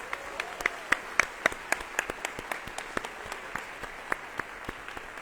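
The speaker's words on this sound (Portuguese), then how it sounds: "palmas para todos" Sparse, steady clapping from a theatre audience during a debate event on World Theatre Day, with distinct individual claps at a moderate distance and no voices over them.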